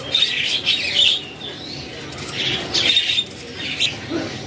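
Many birds, including Mozambique birds, chirping and squawking in bursts in a bird shop, loud and close, calls overlapping in a busy indoor chorus.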